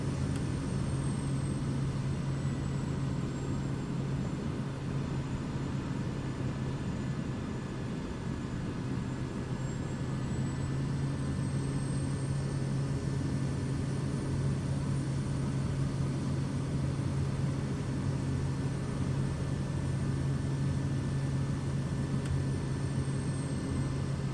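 Steady loud drone of a Kodiak 100 turboprop's engine and propeller during a steep short-field takeoff climb, a constant broadband roar with a strong low hum throughout and no breaks.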